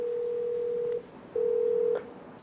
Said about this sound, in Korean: 가까운 지구대와 연결된 비상벨을 2차례나 눌러봤지만 아무런 응답이 없습니다.